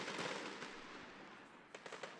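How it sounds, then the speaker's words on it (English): Fireworks bursting just behind Jackie Robinson Memorial Stadium near the Rose Bowl during a summer-night baseball game: a cluster of sharp, fairly distant cracks and pops near the end, over steady crowd and ballpark murmur. "Ton of fireworks going just behind us, going off right now."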